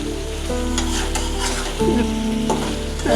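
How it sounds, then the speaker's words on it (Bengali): Egg and potato curry sautéing in a pan, a steady close sizzle with intermittent scraping and stirring strokes throughout, accompanied by a low background hum. "এই যে এখন কষাইতেছি তরকারিটা"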